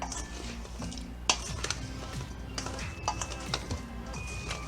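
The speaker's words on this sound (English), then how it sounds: "Get it nice and mixed." Boiled potatoes mixed with garlic, dill and herbs in a bowl, a busy close run of utensil clatter, clinks and scraping against the bowl with no pause.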